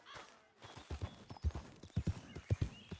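Horse hooves clip-clop in a steady walking rhythm across ground in the Red Dead Redemption 2 video game, close and clear, with distinct paired hoofbeats and faint ambient wind behind them.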